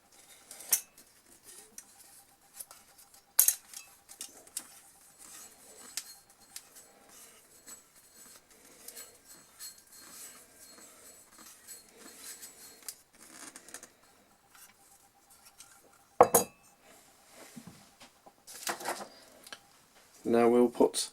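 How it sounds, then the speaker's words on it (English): A vibration shock mount is screwed onto a SUDOTACK ST-810 USB studio cardioid microphone, producing faint scattered clicks, taps and small metallic rattles up close, with a few sharper knocks. A person talks quietly throughout. "Now we need to put the vibration mount on."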